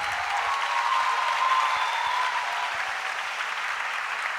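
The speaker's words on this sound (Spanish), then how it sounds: "fuerte el aplauso" An audience at a political gathering claps steadily as speakers are welcomed, a continuous broad patter of many hands that holds level and alone for a few seconds.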